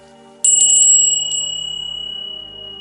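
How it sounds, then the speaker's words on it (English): A single bright strike of a ritual bell rung to call a seer, loud and close, ringing with a long steady tone that slowly fades, with no talk. "So we're going to ring the bell and ask for the seer"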